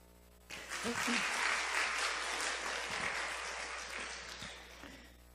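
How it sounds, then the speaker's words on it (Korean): A church congregation applauds during a revival meeting, dense steady clapping that swells quickly after a brief pause and holds for several seconds before thinning slightly toward the end. "이 아름다운 박수 소리는 당신 것입니다"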